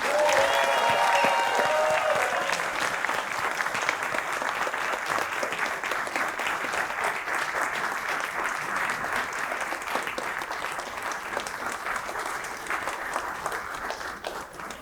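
A commencement crowd applauds the graduating class of 2025, a sustained, dense roar of clapping that stays strong for about fifteen seconds and eases only slightly toward the end, with a few brief tones near the start.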